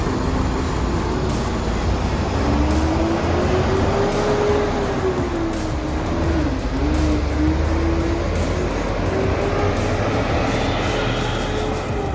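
A large executive bus engine drones loud and steady for twelve seconds as it pulls into a bus terminal, its pitch rising and falling as it rolls along, with a busy, noisy background.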